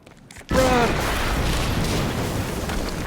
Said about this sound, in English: We just heard an explosion near the harvesting perimeter.